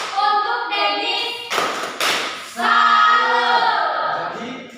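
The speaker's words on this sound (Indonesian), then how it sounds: "Tepuk salut." Two quick bursts of group hand clapping from a class doing a salute clap, loud and near, set between sustained chanted voices of the children.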